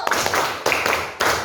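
A classroom of students claps in unison on command, three crisp, loud group claps spaced about half a second apart with little else around them.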